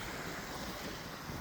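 Wind blowing steadily on the Greek seaside, a constant broad rushing roar buffeting the microphone with the wash of surf underneath, no voices.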